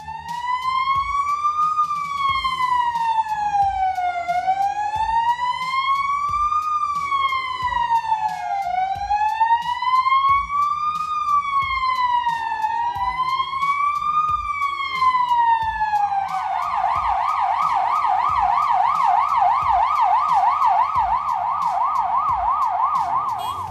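An ambulance stuck in Polish traffic near a tram sounds its siren close by, sweeping in a slow rising and falling wail before switching to a rapid yelp, over low traffic noise.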